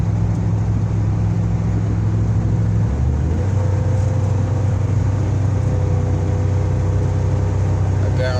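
Ford truck with a rebuilt 4R100 transmission and dual mufflers cruising at speed, a steady droning engine and road hum with a clear shift in pitch partway through; someone speaks over it.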